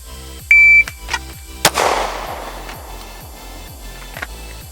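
A shot timer's sharp electronic beep is followed about a second later by a single loud handgun shot that rings out into a reverberant tail, with faint clicks continuing after.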